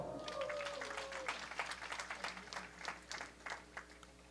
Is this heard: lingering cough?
no